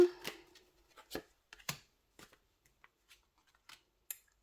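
Tarot cards are shuffled and flipped over in a quiet room, a run of crisp papery flicks and snaps with short pauses between them, close and fairly soft.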